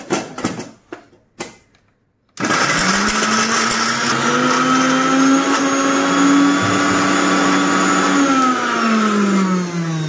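An electric mixer grinder runs steadily for about eight seconds, grinding ginger and bay leaf with a loud, continuous whirring drone that slowly shifts pitch. A few short clatters and knocks come before the motor starts.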